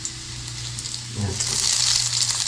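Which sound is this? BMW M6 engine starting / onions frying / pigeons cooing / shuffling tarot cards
onions frying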